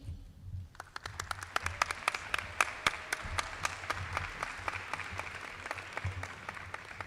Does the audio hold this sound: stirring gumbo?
no